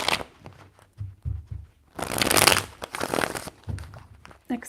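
A deck of tarot cards gets shuffled by hand in a quiet room, with short papery riffles and soft taps, then a longer burst of rustling and several brief flicks.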